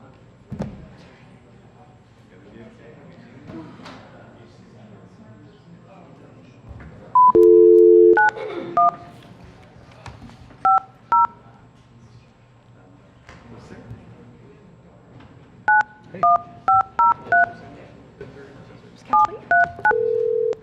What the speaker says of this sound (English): Let's call Sarah.